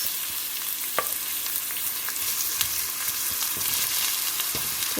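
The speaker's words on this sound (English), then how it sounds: "Cooking oil in my heated pan. Just going to use a little bit. I'm adding my onions." Chopped onions fry in a little heated cooking oil in a pan, giving a dense, continuous sizzle with faint crackles and occasional soft stirring clicks, close and steady throughout without any talking.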